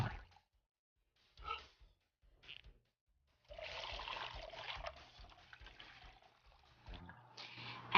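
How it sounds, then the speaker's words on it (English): Water poured into an empty pop bottle, a short trickle, then a longer steady gurgling pour close by, with a brief pause before it finishes. "take an empty pop bottle and fill it with exactly 1 cup of water."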